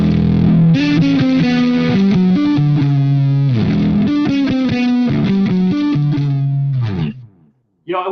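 A bass guitar riff is played through heavy distortion, loud and close, with repeating gritty low notes in a steady rhythm. It cuts off briefly near the end.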